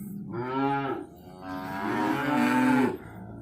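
Mother cows mooing for their weaned calves, two long, loud, drawn-out moos close by, the second longer and swelling before it fades.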